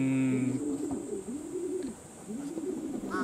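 Racing pigeons back from a training flight coo softly near the loft, a few low rolling calls repeating close by with a faint higher chirp at the end.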